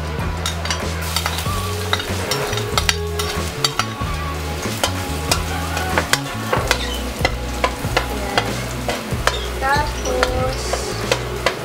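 Garlic frying in hot oil for pancit lomi, a busy crackle with steady stirring scrapes and clinks close by, with a few words spoken over it.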